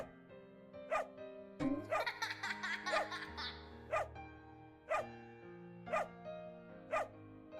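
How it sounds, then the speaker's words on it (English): A giant dog in the game Arrow and Zary barks repeatedly in a steady rhythm, loud and close, with a brief burst of laughter-like sound near the start. "Giant dog."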